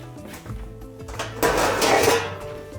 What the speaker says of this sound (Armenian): Գործի դնենք ջեռոցի տապակը,